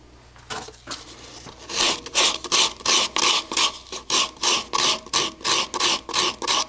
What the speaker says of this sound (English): I'll shut it off and do some hand sanding